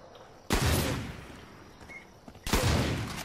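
Gunfire in the video game Far Cry 5 comes as two loud, close bursts about two seconds apart, each hitting hard and trailing off into a fading rumble.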